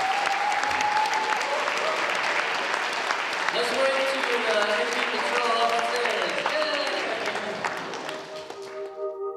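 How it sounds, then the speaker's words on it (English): An audience breaks into a round of applause, many hands clapping in a loud sustained burst that tapers off near the end, with voices and faint musical tones mixed in underneath. "Let's give them a round of applause."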